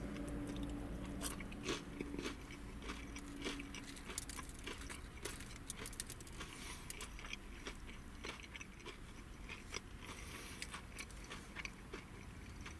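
Crisp crunching bites and chewing of breaded chicken repeat irregularly, close up, over a low steady background hum.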